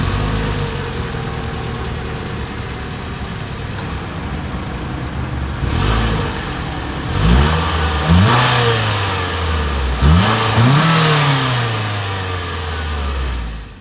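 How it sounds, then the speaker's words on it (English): A 2023 Mitsubishi Outlander Sport engine idles, then revs sharply three times, each rev rising and falling, with a throaty exhaust note close to the microphone. "As always, here is that exhaust clip."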